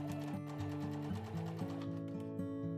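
A home sewing machine runs a long straight stitch through fabric facing and batting for a tote bag, a close, steady motor hum with regular pitch steps as the speed shifts.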